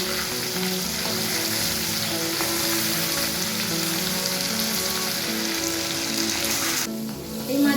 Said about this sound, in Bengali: এবারের মাছগুলো একটা পিঠ ভাজা হয়ে গেছে